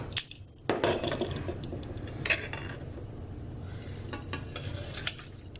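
Metal cans are opened and their contents tipped into a bowl in a home kitchen, giving sparse clanks, clinks and scraping knocks of metal against the bowl at uneven intervals over quiet room noise.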